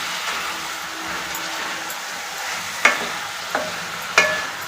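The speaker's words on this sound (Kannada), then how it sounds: "ಈಗ ಒಂದು ಸ್ವಲ್ಪ ನಿಧಾನಾಗಿ ಮಿಕ್ಸ್ ಮಾಡ್ಕೊಳ್ಳೋಣ ಎಲ್ಲನೂ" Mung bean usli with turmeric is stirred in a pan: a soft continuous sizzle with three distinct scraping knocks of the spoon against the pan near the end, close and moderate, with no talking.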